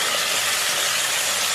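Broiler chicken pieces frying in a hot pan, a loud, continuous, even sizzling hiss heard close up with no pauses.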